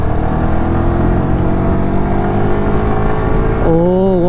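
A Yamaha R15 motorcycle engine revving hard at high RPM on a ride, a loud near drone climbing steadily in pitch, then dropping and rising again as the throttle shifts.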